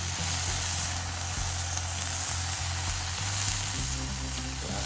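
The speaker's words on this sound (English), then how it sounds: "Right, so I'm happy with my bacon now. That's going to be lovely and crispy." Bacon sizzles and fries on a grill while a breakfast smash burger is being made, a steady loud crackle running continuously with no speech over it.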